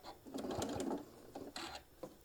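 A sewing machine runs in short quiet bursts while stitching down the side of a fabric travel case for a mini iron, with a couple of brief pauses between the runs of stitches.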